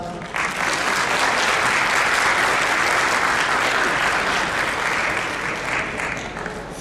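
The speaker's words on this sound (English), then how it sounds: "a huge round of applause" Sustained, dense applause from a large audience at a 2011 Pakistan blogosphere awards gala, loud and steady throughout without a break.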